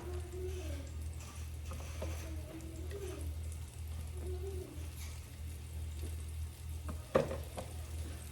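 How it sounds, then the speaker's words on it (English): Steady, quiet sizzling of vegan meatballs frying in a pan, with a voice talking softly over it and a brief clink near the end. "I don't know if you can hear it, but that sizzle going on right now"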